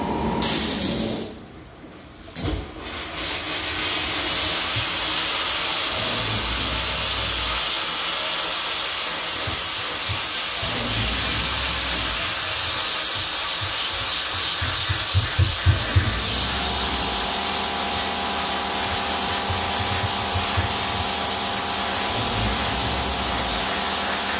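Stainless steel vapor blaster cabinet blasting a part with a steady, loud spraying hiss of wet abrasive and air, a brief pause near the start, then continuous blasting with a few short pedal bursts.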